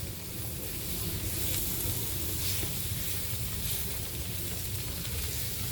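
Pork steaks fry in a cast-iron skillet with a steady, even sizzle and hiss that holds level throughout, close and moderately loud with no talking.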